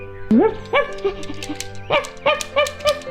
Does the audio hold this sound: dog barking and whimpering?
yes